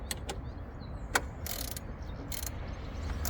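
A ratchet tightens the idler pulley bolt on a BMW 320i E46 engine, producing a few sharp clicks followed by two short bursts of rapid ratcheting against a steady low background hum.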